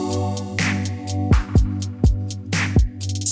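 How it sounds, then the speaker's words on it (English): A crash cymbal added to an R&B-style beat, splashing in with bright sustained washes over steady sustained chords and punchy low kick hits, several crashes across a few seconds, loud and up front. "the last thing I added was a crash just to kind of, again, introduce the whole thing"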